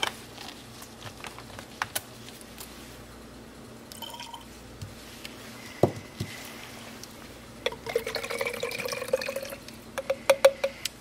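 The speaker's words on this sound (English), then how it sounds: "add the water this way." Water is added to a container while mixing PBS solution in a lab setting: scattered quiet drips and trickles at first, then a brief, clearer stream of liquid filling the vessel near the end.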